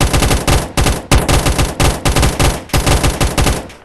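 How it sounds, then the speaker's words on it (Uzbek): Rapid automatic assault-rifle fire from a Minecraft guns mod, loud close bursts of sharp shots in quick repeated volleys with brief gaps between them. "Avtomatlar bir-biridan dahshat avtomatchalar"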